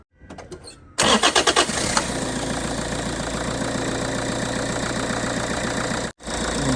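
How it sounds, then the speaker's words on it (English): A Toyota Auris engine cranks with a few rapid starter turns, then catches and settles into a steady, loud idle close by, cutting out briefly near the end; no one speaks. "I'm going to start the car"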